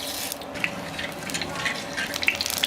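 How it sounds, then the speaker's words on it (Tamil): Fenugreek seeds fry in hot oil with a steady, close sizzle and small pops scattered through it, fairly quiet and heard alone for a few seconds. "எண்ணெய் ஹீட் ஆனதுக்கப்புறம் இதில் வந்து நம்ம எடுத்து வச்சுருக்கிற வெந்தயத்தை சேர்த்துக்கலாம்"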